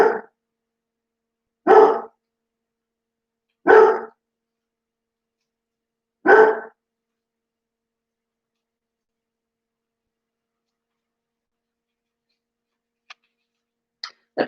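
A dog barks four times, loud and close, with pauses of about two seconds between barks, followed by long quiet and a few faint clicks.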